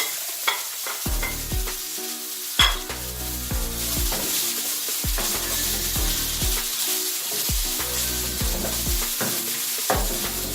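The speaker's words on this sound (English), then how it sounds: "keep the heat low, salt onions till onions are brown" Chopped onions frying in a pan on low heat with salt and turmeric, a steady close sizzle broken by repeated stirring scrapes and knocks of the spoon, no one talking.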